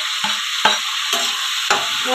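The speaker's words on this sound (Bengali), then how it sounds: "পেঁয়াজ আর টমেটোটা ভালো করে ভাজতে হবে।" Onion and tomato frying in a pan, a steady close sizzle with four sharp scraping stirs of a spoon at irregular intervals.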